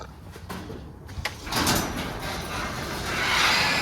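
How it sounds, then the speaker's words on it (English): A door being opened in a garage workshop: a couple of faint clicks and knocks, then a sliding rush of air and broadband noise that swells and stays steady to the end, with no talking. "I gotta open a door in here"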